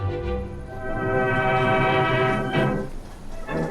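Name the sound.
Red Cross train arriving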